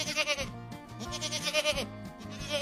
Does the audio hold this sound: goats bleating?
yes